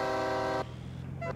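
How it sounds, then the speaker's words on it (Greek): A truck horn honks in the Farming Simulator 22 video game, one steady blaring tone held for more than half a second and then a brief second toot, over a low idling engine hum. "Κόρνα!"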